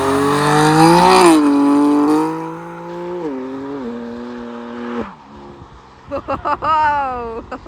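A car's launch-control start: the engine revs hard and loud, its pitch climbing and stepping through gears, then eases off before a second burst of sharp revving near the end.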